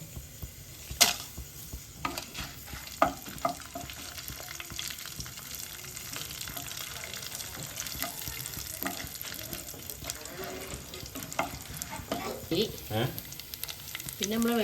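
Dried red chillies fry in hot oil with a steady, busy sizzle and crackle, punctuated by occasional sharp pops and stirring clinks.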